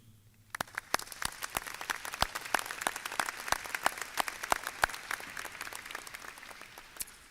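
Audience at a medical school oath ceremony breaks into applause for families, starting suddenly after a brief quiet moment, with sharp individual claps standing out over a steady clapping wash that continues to the end.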